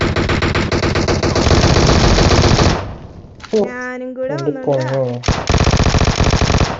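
Rapid automatic gunfire in the video game PUBG, a dense, loud burst lasting a few seconds, then people talking before another sustained volley of shots returns.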